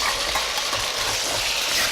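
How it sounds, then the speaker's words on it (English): Chopped carrots drop into a hot pan of sizzling diced tomatoes and garlic for a ground pork stew, a loud steady crackling fry with faint stirring scrapes throughout. "Now after my tomatoes are in, I'm going to add my chopped carrots."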